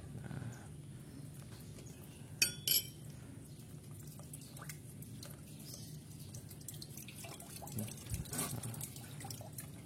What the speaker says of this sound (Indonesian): kita buang lagi dari sini lubang drainnya ini yang ada di sistem tadi